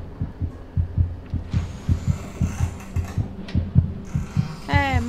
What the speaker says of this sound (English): Please stop with the heartbeats. I want the heart beating to stop.